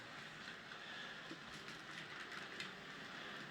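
A model train runs on its track with a faint, steady whirring and light rhythmic clicking, heard from close by at low volume.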